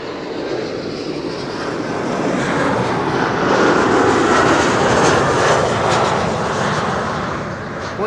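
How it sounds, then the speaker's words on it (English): A KLM Embraer 190 jet airliner arriving from London City at Schiphol roars past as a loud, steady broadband rush that swells toward the middle and eases slightly, with no voices. "In the meantime, Embraer 190 is over here. KLM flight 982 arriving from London City."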